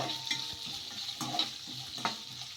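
Carrot and capsicum pieces frying in a pan, a steady sizzle with occasional scraping stirs and light clinks, close and without talk.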